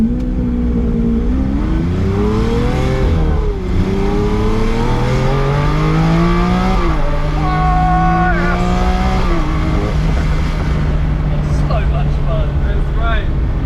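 A car engine revs up repeatedly, its pitch climbing and falling through several loud, close throttle blips before settling into a steady rumble.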